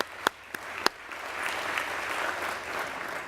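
An audience at an Ellis Island Medals of Honor ceremony applauds service members, starting with a few sharp separate claps that swell into a steady, broad wash of applause from a large crowd.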